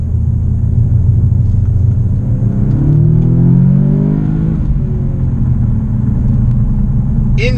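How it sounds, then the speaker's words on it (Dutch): A 2017 Audi S3 sedan with a 310 hp engine rumbles loudly from inside the cabin, swelling in a rev that rises and then falls, with a small late crackle that may be an exhaust pop. "En hoor dat pop, pop, pop."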